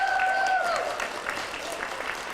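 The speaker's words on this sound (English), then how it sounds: "If you could give her a round of applause" School spring concert audience giving a round of applause for the recorder choir conductor, a broad, steady patter of many hands at a moderate distance, with a brief tonal sound fading early on.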